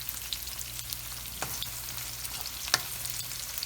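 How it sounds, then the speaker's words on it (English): Chicken mince keema sizzles steadily in a hot pan, a dense continuous crackle with occasional sharper pops and stirring scrapes, close and even throughout with no talking. "love the sizzling sound"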